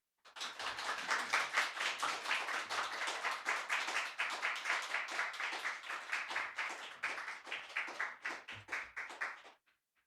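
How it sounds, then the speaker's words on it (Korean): A church congregation applauds to welcome a speaker, a steady run of distinct rhythmic claps building quickly and holding for several seconds before stopping abruptly. "여러분들 할 수 있는 대로 큰 박수로 우리가 환영을 하도록 하겠습니다"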